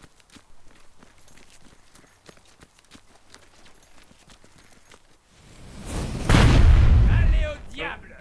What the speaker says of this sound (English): That was an artillery?